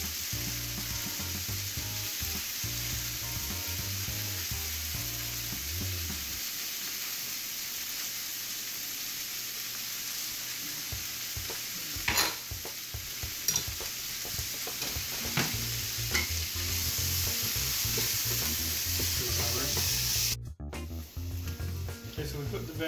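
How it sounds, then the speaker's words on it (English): Cut bacon pieces fry in a pan with a loud, continuous hiss and crackle. A low background hum is heard at the start, and a few sharper scrapes and pops follow. "We started putting the bacon on our pan over here after we cut it."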